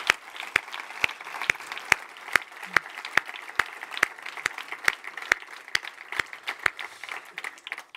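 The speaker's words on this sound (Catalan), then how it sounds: "feu-li un aplaudiment al logo, que ens ha costat molt." At a 40th-anniversary celebration, a steady, rhythmic clapping rings out, with sharp, evenly spaced claps in a regular beat, a small group clapping in time rather than a dense ovation, with faint murmuring underneath.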